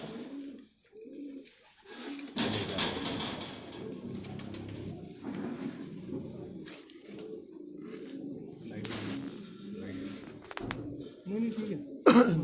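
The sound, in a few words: pigeons cooing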